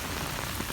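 Heavy rain pours down in the UAE, a dense, loud, unbroken hiss of drops pounding a surface, close and steady with no voices.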